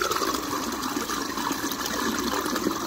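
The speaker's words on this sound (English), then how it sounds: "this is producing a nice flow of water" Water drains steadily through an aquaponics U-siphon, a continuous near, loud rushing gush with a gurgling churn that holds for the whole stretch without a break.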